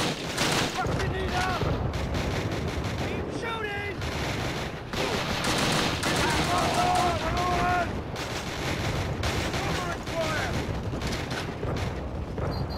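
Sustained video-game gunfire from a World War II battle in Call of Duty: Roads to Victory, loud dense shots and bursts running continuously under shouted voices and battlefield chatter.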